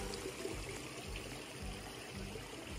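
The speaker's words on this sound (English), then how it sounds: "Lots of water flowing." Water runs steadily in a stream beside a hiking trail in fall, a faint continuous rushing and trickling with no voices.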